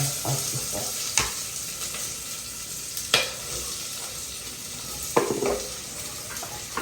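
Chopped onions fry in a pan with a steady close sizzle, broken by three or four distinct scraping clacks as a spatula stirs them.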